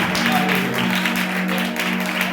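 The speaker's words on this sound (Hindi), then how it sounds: "ताली बजा के सबसे पहले उसकी सताइश करें" A church congregation claps hands in praise during a worship service in Bathinda, Punjab, a dense, steady wash of applause filling the whole stretch, with voices mixed in underneath.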